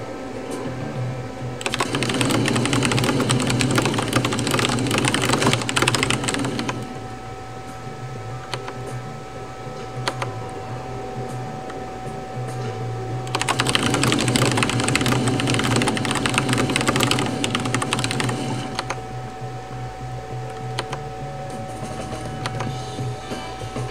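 Dense, fast clatter of typing on a blank keyboard during The Typing of the Dead: Overkill, coming in two long loud bursts over steady game music and background hum.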